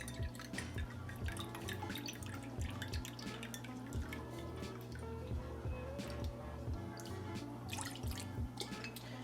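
Soy sauce poured into a mix of cornstarch and water, heard as soft close dripping and trickling liquid with occasional light clinks of glass or dishware, steady and fairly quiet throughout.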